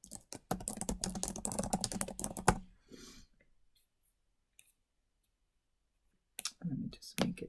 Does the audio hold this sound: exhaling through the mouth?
no